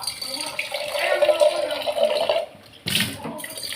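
Water poured into a cooking pot of chili-powder curry, a steady splashing rush that stops briefly and resumes with a louder gush, close by.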